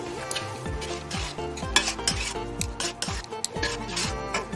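Egg stirred into fried masala in a pan on low heat, with repeated rhythmic scraping strokes of a spoon against metal over a faint sizzle, close and steady.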